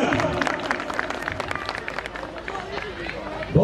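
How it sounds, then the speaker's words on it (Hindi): An audience applauds at a Holi Milan awards ceremony as a presenter arrives to honour service to the Uttarakhand community. The dense, steady clapping fills the hall, with voices murmuring underneath. "जोरदार तालियों से स्वागत।"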